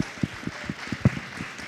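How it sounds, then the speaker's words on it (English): An audience at a science panel discussion applauds an award winner, with a short burst of scattered, uneven hand claps that stays fairly soft throughout. "So let's clap her, clap her."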